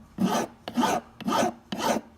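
A file rasps across the edge of a BMW 3 Series front brake pad to chamfer it, four even, close strokes with short pauses between them.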